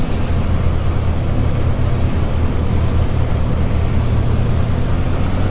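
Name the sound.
A2A Comanche 250 engine run-up to 1800 RPM, flight simulator video game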